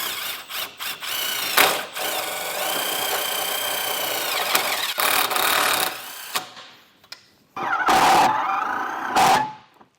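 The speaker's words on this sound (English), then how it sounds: "we're going to go ahead and drill this into our ladder rack" A power drill driving self-tapping screws into an RV ladder rack to mount a solar panel bracket, several loud whirring bursts with a high squeal, separated by short pauses.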